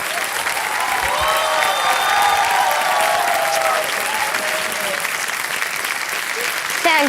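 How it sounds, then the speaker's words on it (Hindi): Loud, sustained applause from a studio audience at a quiz-show taping, honoring a contestant who arrived doing a cartwheel; dense clapping fills the whole stretch with faint cheers and tonal music drifting underneath. "तालियां बजाएं इनके लिए।"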